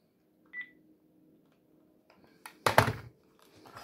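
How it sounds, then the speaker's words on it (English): A home telephone taken off the hook: a short tone, faint rustling, then a loud clattering thunk of the handset being handled, followed by low noise. "Okay, take the phone off the hook for a bit."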